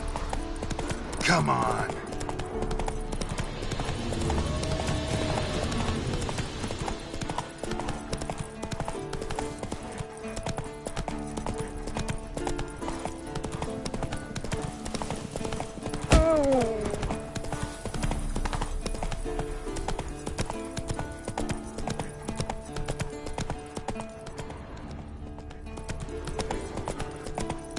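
Galloping hooves of Roach, a horse in The Witcher 3: Wild Hunt, a steady rapid clip-clop running throughout over music and ambience, with a brief whinny near the start and a rider speaking.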